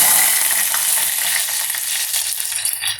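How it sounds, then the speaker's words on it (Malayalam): Curry leaves dropped into hot oil with popped mustard seeds for an Onam lime curry give a loud, steady, close sizzle that crackles throughout without a break and with no voices. "കടുക് പൊട്ടി ഞാൻ കറിവേപ്പിലിടുകയാണ്."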